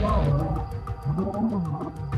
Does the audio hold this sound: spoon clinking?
no